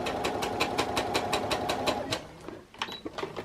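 A sewing machine stitches stretch fabric in a fast, steady run of needle strokes, close and fairly loud, then stops and gives way to a few scattered handling clicks.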